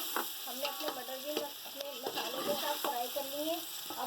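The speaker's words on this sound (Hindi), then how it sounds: "हमने अपने मटर भी अपने मसालों के साथ फ्राई कर लिए" Peas fry with spices in a pan, making a soft, steady sizzle broken by light stirring scrapes and clinks, heard faint and close without talk.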